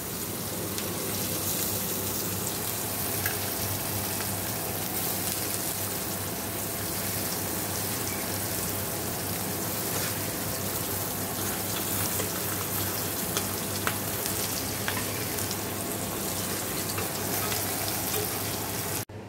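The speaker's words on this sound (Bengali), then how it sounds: "তো কাঁকরোলগুলো একটু হালকা ভেজে নিচ্ছি।" Pieces of spiny gourd (kakrol) fry lightly in a pan with a steady, dense sizzle, continuous and close for the whole stretch, no voices.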